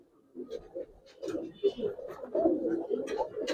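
Giribaz pigeons coo in soft, repeated low bursts close by, mixed with voices talking over them.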